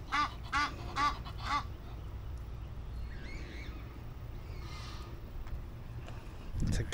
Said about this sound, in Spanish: Se quieren pelear los patos.